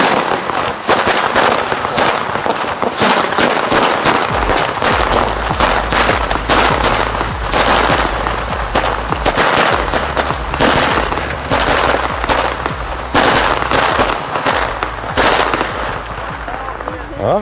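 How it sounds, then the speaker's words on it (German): A long firecracker carpet on New Year's Eve crackles in dense, rapid bursts of sharp bangs for many seconds, loud and close, with a low rumble underneath and occasional voices in the background. "Jetzt auch mal nach The Hawk Fireworks einen schönen langen Knallteppich."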